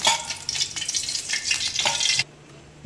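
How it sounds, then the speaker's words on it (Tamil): Sesame oil heats in a kadai with a close, bright hiss and a few scraping strokes for about two seconds before it cuts off sharply. "கடாயை வச்சு வச்சு எண்ணெய் ஊற்றிடும் நல்லெண்ணெய் தான் ஊற்றுறேன்"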